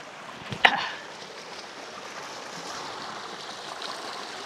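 River water rushing over rocks near a campsite by waterfalls in Indang, a steady close wash of flowing water after a brief thump at the start.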